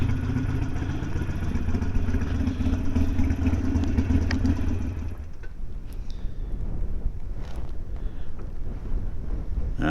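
Steady broadband wind rush buffets the microphone for the first half, then eases into a thinner, gustier hiss with a few light knocks.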